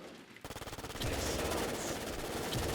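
Video game gunfire: a quick run of rapid, evenly spaced shots starting after a brief quiet moment, then merging into a loud, sustained barrage that runs to the end.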